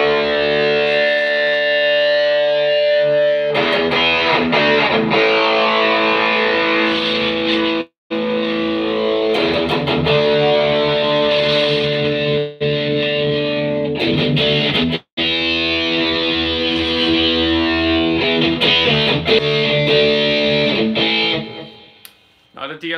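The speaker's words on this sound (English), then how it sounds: "I am in fact using the Dime Distortion, the Dimebag Darrell Camouflage MXR distortion pedal" Electric guitar played through an MXR Dimebag Darrell Dime Distortion pedal in the camouflage finish, giving a loud, heavily distorted sustained tone in a live jam, with brief cut-offs between phrases before it fades out at the end.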